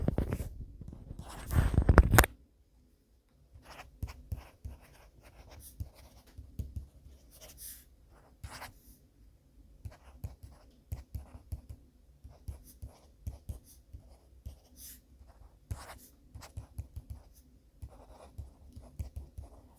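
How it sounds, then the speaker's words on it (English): Pen or pencil writing on paper up close in a quiet room, with faint scratchy strokes and taps in irregular bursts after a brief louder rustle at the start. "you can hear the writing noises, and it just sounds marvelous"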